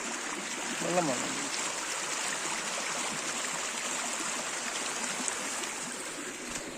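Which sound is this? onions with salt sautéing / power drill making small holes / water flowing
water flowing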